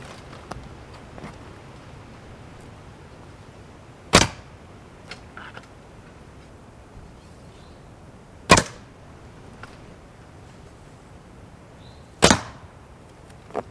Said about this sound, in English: it does make a lot of noise when you're pulling that arrow back to release it